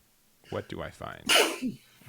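A single close sneeze bursts out in the middle of casual speech from a person at a regionals livestream for a Digimon card game, with talk before and after it.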